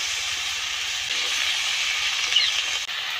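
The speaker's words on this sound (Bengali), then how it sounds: "কুমড়া আর পুঁই শাকটা হালকা ভাজা হয়ে গেছে" Pumpkin with Malabar spinach stems and leaves frying lightly in fish oil in a pan gives a steady, even sizzle and hiss that runs throughout without a break, close and moderately loud, with no talk over it.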